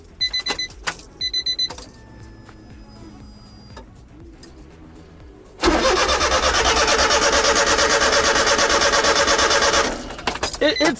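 A Honda Beat with a freshly installed fuel filter cranks loudly on a start attempt, the starter churning steadily for about five seconds without catching, after some clicks and handling noises.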